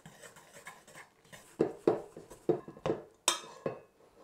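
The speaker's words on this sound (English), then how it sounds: "Just pop your dry ingredients in. And get your hook and just mix it round." Dough hook scraping and knocking around a mixing bowl as dry ingredients for hot cross buns are stirred by hand, a series of about six close clinking strikes in an uneven rhythm after a quieter start.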